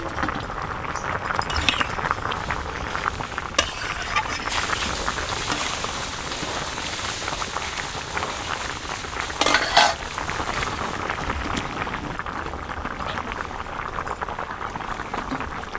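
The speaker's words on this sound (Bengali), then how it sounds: "এখন আমি ঢাকনাটা উঠাই দেখবো আমার তরকারিটা কেমন হয়েছে" A simmering tengra fish curry with ridge gourd, bubbling and sizzling steadily in a pot. Light metallic clinks of the lid and utensils come through on top, close and moderately quiet, with no talking.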